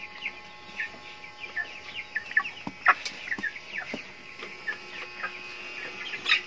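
Chickens cluck repeatedly nearby, a series of short irregular clucks and calls over a quiet farmyard background, with no talking.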